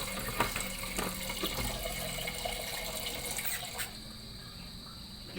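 Water runs steadily into a cooking pot while sinigang with string beans, okra and water spinach is being prepared, a continuous splashing stream close by that stops abruptly near the end.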